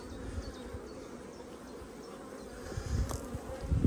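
A steady, dense buzzing of many honeybees fills the air close by as a beekeeper lifts frames from a hive, with soft rustling and handling noises growing louder toward the end.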